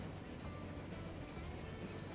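A train in the Transport Fever video game rolls along with a faint, steady rumble and a thin wheel whine, quiet and unchanging for the whole moment.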